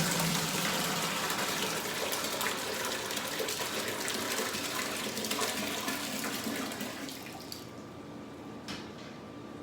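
Homemade black grape wine poured into a brew bucket, a steady splashing gush of liquid that runs continuously and then thins to trickles and drips at the end.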